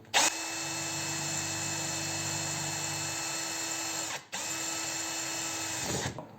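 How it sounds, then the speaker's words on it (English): A power drill with a 3mm bit whines steadily while boring pilot holes in a camping awning channel bracket, stops briefly, then resumes at the same pitch before winding down. "Drill the holes."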